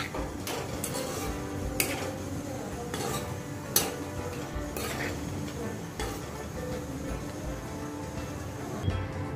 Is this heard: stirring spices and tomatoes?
yes